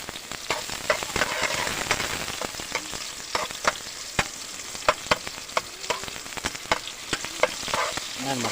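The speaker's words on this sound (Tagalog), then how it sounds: "So igisin na natin tong bawang sibuyas." Garlic and onion sautéing in a pan, a close, busy sizzle broken by frequent sharp scrapes and clacks of a utensil stirring in an irregular rhythm, with no talking.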